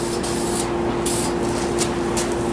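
Spraying in a workshop, with short bursts of hissing spray over a steady hum of machinery.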